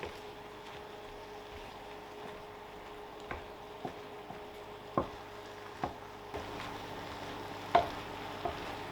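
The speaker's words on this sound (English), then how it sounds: "Give it all a good mix up again, and it doesn't take long for the cream cheese to melt down." Chicken and mushroom pie filling stirred in a pan as cream cheese melts into it, a soft sizzling bed broken by occasional wet scraping clicks of the spoon, growing a little busier toward the end.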